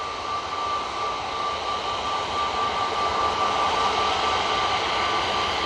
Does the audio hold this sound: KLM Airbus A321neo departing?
yes